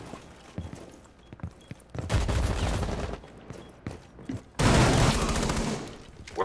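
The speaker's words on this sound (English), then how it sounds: "Where's all these gunshots taking place?" Rapid gunfire fired close by comes in two loud, dense volleys separated by quieter scattered clatter and thumps, with no voices over it.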